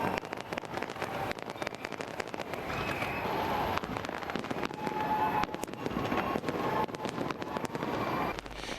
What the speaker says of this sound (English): get a close-up view for the fireworks display that went off